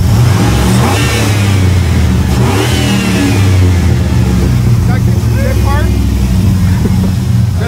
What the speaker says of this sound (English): Do you want me to start it so you can hear what it sounds like?